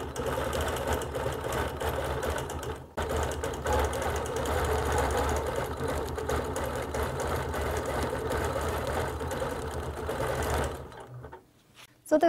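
Sewing machine running steadily for stitching, a loud close mechanical whir with fast rhythmic clatter holding for about ten seconds, briefly pausing once, then stopping near the end.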